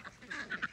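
Welsh Harlequin ducks and ducklings in a paddock by the coop, giving a few short, nasal quacks in quick succession, fairly close and moderately loud.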